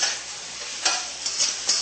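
Shrimp and bok choy stir-fry in a pan, a dense sizzle with several quick scraping stirs spaced through the short span, close and fairly loud.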